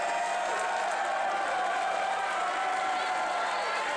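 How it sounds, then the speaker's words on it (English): A wrestling event crowd keeps up a steady, distant roar of cheering and clapping across the arena, with no clear peaks. "listen to the crowd as Austin Aries taking a little breather"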